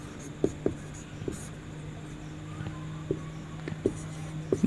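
Chalk or marker taps and scratches on a board during a chemistry lesson, faint and sparse, a few short strokes against a quiet room hum.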